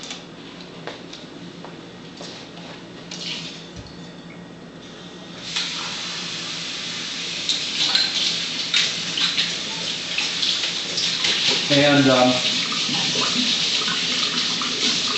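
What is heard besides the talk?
water running from a tap while rinsing a measuring cup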